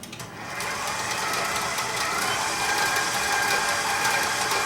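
A stand mixer creams butter with light brown sugar for an orange upside-down cake, its motor whirring steadily and close after a brief quieter start, with the beater rattling continuously and no talk over it.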